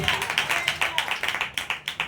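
A church congregation claps together in praise of God, a steady rhythmic beat of roughly five or six claps per second, fairly close and even, with a faint murmur of voices underneath.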